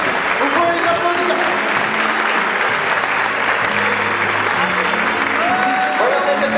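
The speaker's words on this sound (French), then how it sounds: "Allez, vous pouvez l'applaudir." Loud, sustained applause from a crowd at the Paris agricultural show, honouring a livestock exhibitor from Nasbinals, dense clapping throughout with voices and an announcer's talk running underneath.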